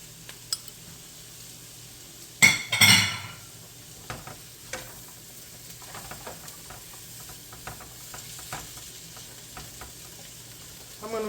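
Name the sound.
squash cooking in a pan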